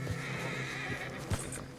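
A horse in Red Dead Redemption 2 gives a clear neigh against a steady game backdrop, with faint hoof clip-clops and a sharper whinny burst near the end.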